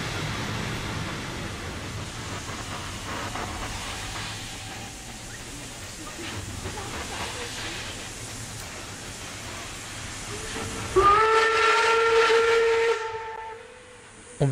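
A steam locomotive hauling a special train arrives at a German station, pulling in amid a steady background hiss, then a loud, shrill steam whistle blasts for about two seconds near the end.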